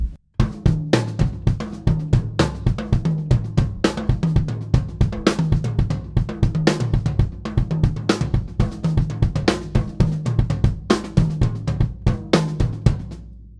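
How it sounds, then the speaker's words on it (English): A busy drum groove in 9 against 11 polymeter with steady hi-hat or cymbal hits over interlocking kick and snare patterns, played continuously and loud with no talking. "So the two combined makes a 9 vs 11 polymeter"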